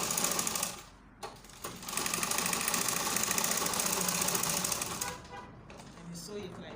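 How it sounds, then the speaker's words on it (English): Sewing machine stitching a dart on a baby gown, a fast steady mechanical whir that runs for several seconds between short pauses and quieter starts, close and prominent. "I will start sewing the dart now"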